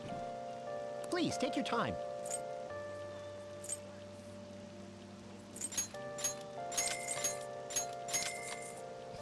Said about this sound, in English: the sound of rain hitting a window or a roof, just it's nice